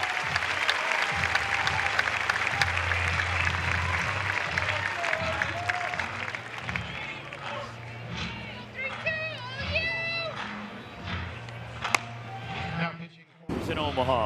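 A baseball crowd of over 4,000 at a packed college game between Florida State and Oregon State applauds steadily as a relief pitcher comes in during the eighth inning, sustained clapping and cheering with a commentator talking over it.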